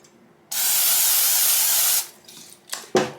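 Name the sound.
olive oil spray being sprayed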